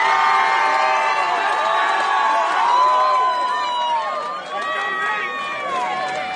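A large crowd cheers and whoops loudly, with overlapping high shouts and yells rising and falling continuously.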